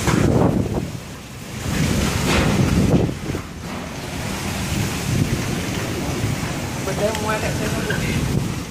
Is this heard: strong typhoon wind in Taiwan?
yes